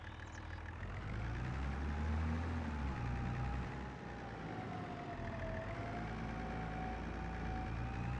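A tractor engine runs steadily at a low rumble on a sheep farm, the pitch shifting slightly as it revs, with no talk over it.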